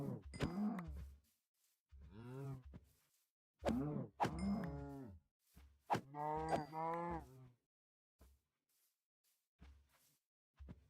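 Cows in a video game moo several times in close succession, loud drawn-out calls separated by short pauses, with no talking over them.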